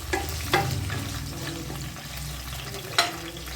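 Garlic, onion and chili sautéing in hot oil, a steady low sizzle punctuated by a few sharp spatula clacks against the pan as the mixture is stirred.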